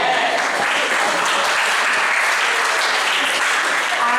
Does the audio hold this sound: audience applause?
yes